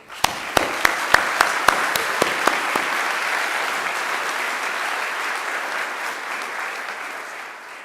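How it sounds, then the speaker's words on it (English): A graduation ceremony crowd applauds Dr. Edwina, opening with several sharp nearby claps before swelling into a broad, sustained wash of clapping from a large hall audience. "I think Dr. Edwina deserves another great round of applause."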